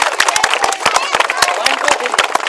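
Children clapping at a school Independence Day celebration, a quick run of sharp, uneven handclaps close by over lively background chatter and voices.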